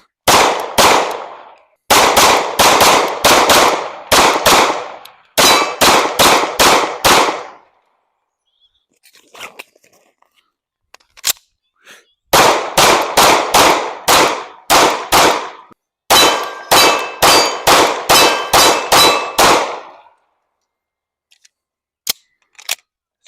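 CZ Shadow 2 pistol fired at steel targets, with loud sharp shots in fast strings of several rounds each, separated by brief pauses, ringing clangs off the steel, and no talking.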